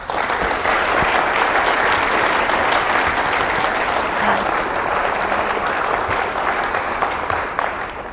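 Audience applause welcoming 2015 NSS Luminary Dr. Diana Northup on stage, a dense, steady wash of clapping from a large crowd that holds throughout and eases slightly at the very end.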